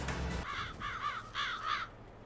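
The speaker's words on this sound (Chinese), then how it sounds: "我们的田开始有乌鸦出现了。" Crows caw over farm fields in Farming Simulator 22, four harsh calls in a steady row, fairly close and clear against a quiet background.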